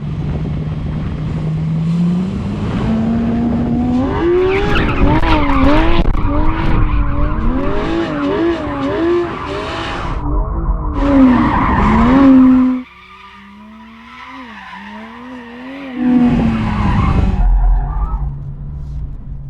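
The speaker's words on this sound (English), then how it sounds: "I think these tyres will be fine as long as I get some heat into them, so I'm just going to warm them up." A Porsche 911 GT3 spins its tyres on damp tarmac before a drag race, the engine revving hard and wavering while the rubber squeals loudly for several seconds, then a sudden drop to a quieter idle before another burst of revving.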